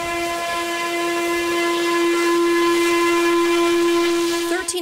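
Steam whistle of locomotive 1309 running under steam on the Western Maryland Scenic Railroad, one long, loud, steady chime-like blast with hissing steam beneath, held for nearly five seconds before cutting off.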